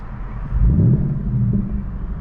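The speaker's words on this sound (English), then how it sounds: "It's just such a visceral sound. That active exhaust is definitely worth it in this car." A 2019 Ford Mustang Bullitt active exhaust in track mode rumbles deep and low, swelling briefly into a rev before settling into a steady throaty idle.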